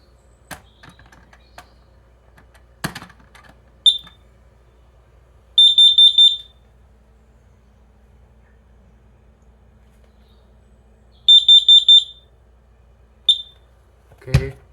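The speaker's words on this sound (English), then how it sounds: "grab this broom to test carbon monoxide alarm right over there" A carbon monoxide alarm more than 10 years old is tested with a broom: two loud bursts of rapid piercing beeps, with short chirps and a few knocks in between, in an otherwise quiet room.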